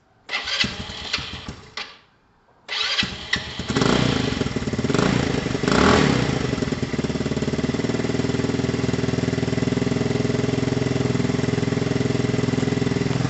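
A Lexmoto FMX 125 motorcycle engine with a newly repaired exhaust starts, cuts out briefly, then restarts and settles into a steady, loud, close idle with no talking.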